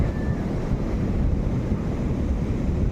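Steady roaring wash of sea waves surging off the coast at Veraval, dense and continuous at close range, with rushing wind over the water and no voices.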